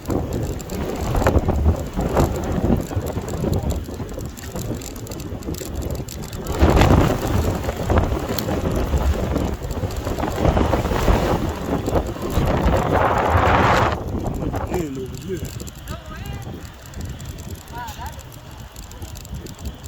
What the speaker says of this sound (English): Hope y'all folks can hear it through all this wind.